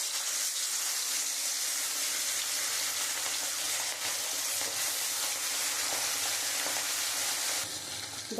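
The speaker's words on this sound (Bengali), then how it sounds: "আমার মাছ ভাজা হয়ে গেছে" Fish rubbed with salt and turmeric fries in mustard oil in a wok, giving a loud, continuous bubbling sizzle that barely changes from start to finish.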